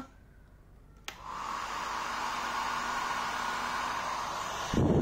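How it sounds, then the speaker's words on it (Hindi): A hair dryer blowing heat onto a telephone ringer for an electronics experiment switches on with a click and runs as a steady, close whooshing drone with a faint motor hum. "तो चलिए अभी हेयर ड्रायर से ट्राई करते हैं हीट पहुंचा के"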